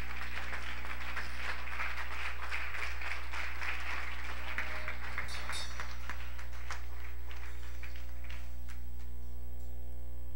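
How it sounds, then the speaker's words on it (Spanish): Congregation clapping during a church service, a broad steady wash of applause over a constant electrical hum, gradually thinning and fading toward the end. "Si ese aplauso es para el Señor, de ser más fuerte en esta hora."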